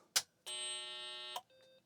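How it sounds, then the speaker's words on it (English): BBC Master 128 8-bit Acorn computer speaker beeping: a sharp click, then a loud, steady electronic tone lasting about a second, followed by a shorter, fainter beep. "Making beep noises."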